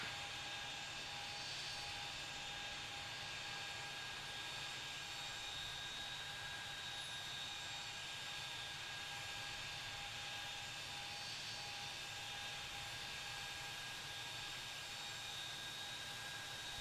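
Airliner on final approach to land at runway 31, LaGuardia, in the game Tower! Simulator 3: a steady, faint jet-engine drone with a constant whine, unbroken throughout.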